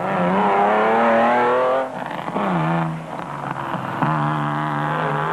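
Off-road race vehicles in the Mafikeng 400 roar past one after another, each engine note rising and then dropping sharply as it goes by, loud and close, with no talk.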